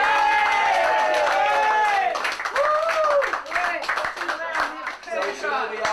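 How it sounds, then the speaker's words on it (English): Applause for the helpers at a junior football club after an under-14 game, clapping and cheers from a group mixed with loud voices and whoops talking over it throughout. "Just give these guys a round of applause"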